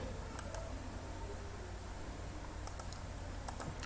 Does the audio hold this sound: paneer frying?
no